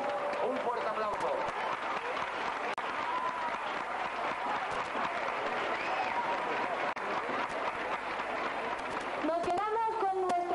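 Steady crowd applause at a 1987 carnival queen election in Nerja, continuous clapping with some voices mixed in, and a person speaking over it at the end.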